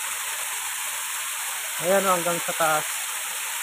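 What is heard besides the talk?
Enchanted Falls waterfall in Sultan Kudarat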